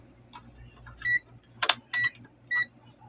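A multimeter in diode test mode gives several short electronic beeps, close and distinct, during repair of a Koppel unit with an E1 error, with faint clicks and handling noise between the beeps.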